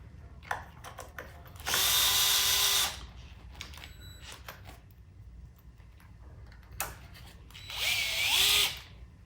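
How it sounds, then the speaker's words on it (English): A power drill drives screws into a WTF Growler fender on a Onewheel XR, with two loud, close whirring bursts of about a second each separated by quiet handling clicks and rattles. "So we're gonna go ahead and put our screws in and do it on both sides."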